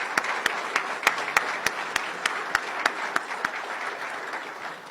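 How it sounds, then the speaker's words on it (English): Sparse applause from an audience greeting the team at a Somali event, steady and moderately loud with individual sharp claps standing out, and no voices. "Please help me also give them a round of applause"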